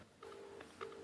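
A telephone call rings out on the line as a steady tone that begins after a brief quiet moment, with short brighter pulses recurring at a moderate volume.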